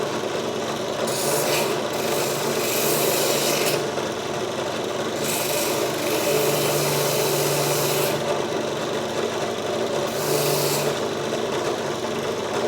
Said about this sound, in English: Probably sand this down too while I'm at it.